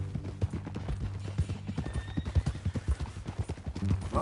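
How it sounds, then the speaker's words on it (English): Horse hooves clip-clop steadily at close range on a ranch in Red Dead Redemption 2, a brisk uneven rhythm of soft thuds with faint snorting and a brief whinny-like sound in the mix. "That a new horse?"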